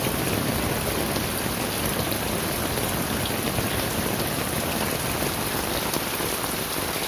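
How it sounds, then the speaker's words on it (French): Heavy rain pouring steadily onto surfaces, a dense, continuous hiss with no breaks, close and enveloping, with no voices. "Il pleut tellement là"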